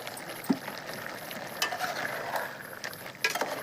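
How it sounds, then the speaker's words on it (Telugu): A ladle stirs a bubbling pot of tomato curry, with soft scraping strokes and occasional metallic clinks over a steady simmering hiss, close by and without voices. "కుట్టుకుతా ఉడుకుంది. కలుపు, బాగా కలుపు గంటితో."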